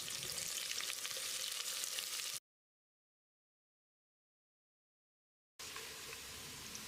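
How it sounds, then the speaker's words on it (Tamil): A quarter kilo of large onions, sliced lengthwise, sizzles and fries steadily in a pan for Ambur mutton biryani, with the sound cutting to silence midway before the same close, even sizzle returns. "கால் கிலோ அளவுக்கு பெரிய வெங்காயத்தை நீல வாக்கில் நறுக்கி வச்சுருக்கேன். இதை போட்டு பொன்னிறமாக வதக்கிடலாம்."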